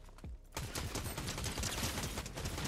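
Rapid video game gunfire rattles out in loud, dense, continuous bursts after a brief opening shot, sounding close and relentless.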